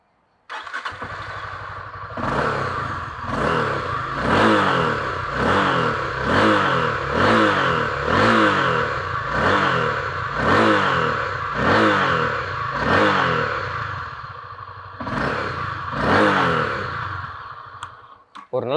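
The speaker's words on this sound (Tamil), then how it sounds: "ஒரு நல்ல ரீஃபைண்டான ஒரு எக்ஸாஸ்ட் சவுண்டாக தான் இந்த வண்டியில் கொடுத்துருக்காங்க." Honda CB300F motorcycle exhaust revving repeatedly in a steady series of sharp throttle blips after starting, loud and close, each rev rising and falling before a brief pause near the end.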